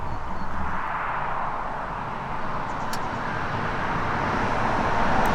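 Car driving on a country road out of Bright toward a snowy lookout, a steady interior rumble of tyres and engine with a soft continuous road roar and a couple of faint clicks.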